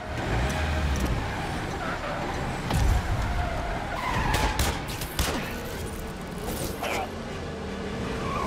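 Car tires skid and squeal in Marvel's Spider-Man on PS4, mixed with engine roar and crash noises in a loud, continuous chase scene, with a voice speaking over it.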